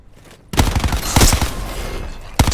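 Video game gunfire: after a brief quiet moment a loud, rapid burst of automatic shots rattles out for nearly two seconds, followed by another sharp shot at the end.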